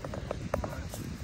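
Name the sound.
horse hooves clip-clopping during a ride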